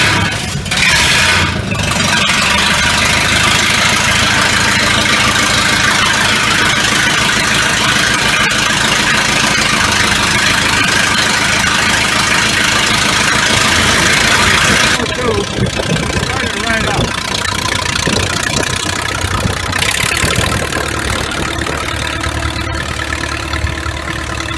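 A Minneapolis Moline propane tractor engine idles steadily and loudly at close range for the whole stretch, with a slight change in tone partway through and faint background voices.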